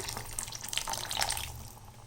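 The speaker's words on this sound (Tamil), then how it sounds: "அதை வந்து இதில் ஊற்றிடலாம்" Tamarind water is poured into a simmering eggplant and cowpea curry, a short, soft splashing trickle of liquid lasting about two seconds, quiet and close, with no talk.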